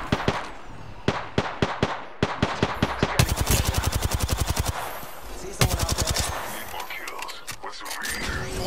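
Rapid automatic gunfire from a Prowler SMG and other weapons in an Apex Legends match, with bursts of close, loud shots separated by short pauses, then a long sustained volley and scattered distant shots.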